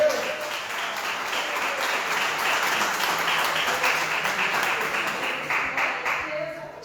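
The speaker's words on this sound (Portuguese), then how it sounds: "Você pode aplaudir no nome do Senhor?" Audience applause at a church family seminar, a steady wash of many hands clapping continuously throughout, moderately loud and fairly close, fading slightly at the end.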